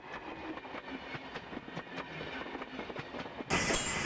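A steam train crosses a bridge in New South Wales, its wheels clattering in a rhythmic clickety-clack at moderate distance, ending in a sudden loud hissing burst.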